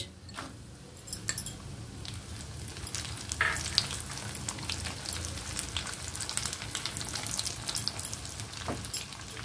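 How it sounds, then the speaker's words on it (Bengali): Cashews and raisins frying in a pan for Bengali-style peas pulao, a soft continuous sizzle with light crackles and occasional utensil clinks, moderately quiet. "এর মধ্যে দিয়ে দিচ্ছি কাজুগুলো, হালকা করে ভেজে নেব।"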